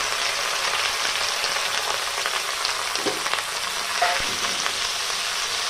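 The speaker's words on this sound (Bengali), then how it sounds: "এবার আমি পেঁয়াজগুলো দিয়ে দেবো ভাজতে" Sliced onions fry in hot oil for a mutton curry, giving a steady, loud broadband sizzle with a few soft utensil clinks partway through.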